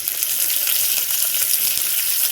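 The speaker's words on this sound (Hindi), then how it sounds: "राई क्रैकल होना शुरू हो गई" Mustard seeds temper in hot oil over a low flame with green chilli and curry leaves, producing a steady dense sizzle and fine crackle, close and constant, with no voices.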